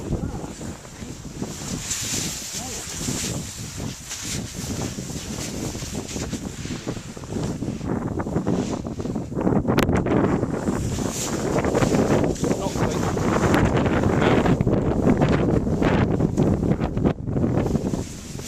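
Strong wind gusting across snowy Arthur's Seat in Edinburgh, a loud continuous roar and buffeting against the microphone that builds in the second half, with voices partly audible under it.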